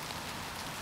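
A brief passing rain squall over an outdoor cricket ground, a dense, even hiss of falling rain heard alone at moderate level.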